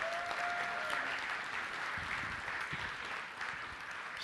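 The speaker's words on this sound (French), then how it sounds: "Ah, on peut les applaudir ensemble." A church congregation claps together in steady, dense applause filling the room, a faint voice briefly audible near the start.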